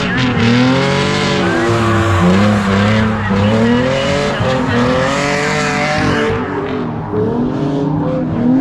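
Drift car running a last lap at Piedmont Drift, engine roaring loud and close with wavering revs and continuous tire squeal throughout, a voice talking over it.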